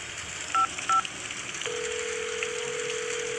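Two quick telephone keypad beeps, then a steady tone holds on the line, heard over a faint background hiss.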